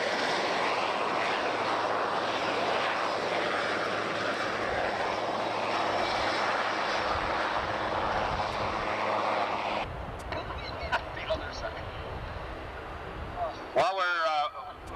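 A Jolly Green Giant rescue helicopter flies past at a 1990 military airshow, its engine roar loud and steady for about ten seconds before dropping away, leaving a quieter field with an announcer talking over it.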